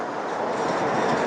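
A Chicago Orange Line elevated train rolls past with a steady rail rumble and faint clatter, heard outdoors at a Chinatown street corner near an expressway.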